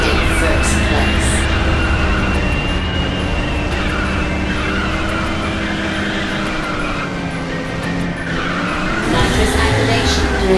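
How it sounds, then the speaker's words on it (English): In the Ridge Racer 6 video game, a Danver car drifts with nitrous active. A loud, sustained engine roar and squealing tires run throughout, with a game announcer voice speaking over the racing sounds. "Nitrous activation during drift. Currently in first place."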